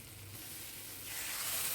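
Potato pieces frying in a pan give a soft, steady sizzling hiss that swells slightly toward the end, faint and close with no voices.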